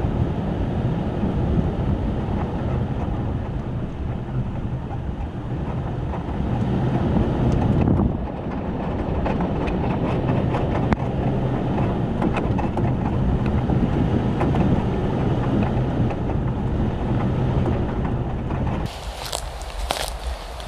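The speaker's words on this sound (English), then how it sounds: "I can hear a river up ahead" A stream flows near a remote bush campground in the Mount Kosciuszko area of Australia, making a steady, loud broadband rush that holds throughout with only slight changes in level.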